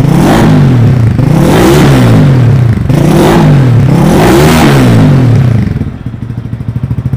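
A Speeder NSX 165 motorcycle engine revs loudly and repeatedly in rising, falling surges, then settles to a rough, throbbing idle.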